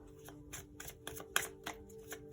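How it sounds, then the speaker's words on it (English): Tarot cards are shuffled by hand in a quick, steady riffling rhythm of soft papery flutters, close and fairly quiet with no talk over them. "Let's keep shuffling until we get one."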